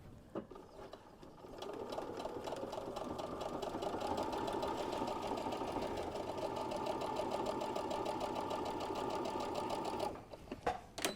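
A sewing machine top-stitches along an apron's fabric edge with a close, steady whir for about nine seconds. Brief clicks and handling sounds come before and after the run.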